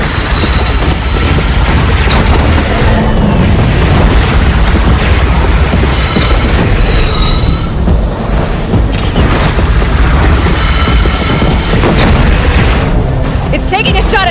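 Heavy cannon booms in the game Horizon Zero Dawn during a platform defense battle, repeated blasts layered with dense combat noise and music throughout, with voices speaking over the action.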